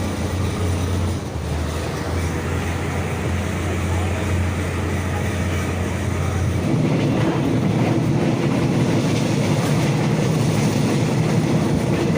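A steady low rumble of a train rolling past on the Mae Klong railway in Thailand, continuous and fairly loud, with a deeper tone shifting partway through and voices faintly underneath.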